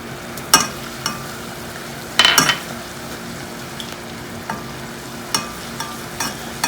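Sugar syrup with saffron simmers in a pan for mohanthal, a soft steady bubbling sizzle broken by occasional clinks of a utensil against the pan.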